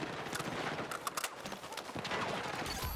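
Rapid gunfire from an M277 in the video game Battlefield 6, a dense continuous burst of shots and impacts filling the whole stretch with busy game effects.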